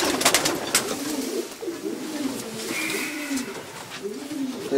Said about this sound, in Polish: O, tu jest bardzo ciekawy gołąb.